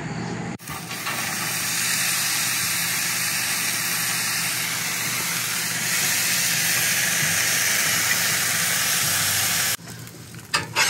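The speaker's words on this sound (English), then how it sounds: "First, drop the onions on and let them get real nice and caramelized" Onions sizzling and caramelizing on a hot camp griddle outdoors, a steady, close broadband hiss that holds for most of the clip before cutting out near the end.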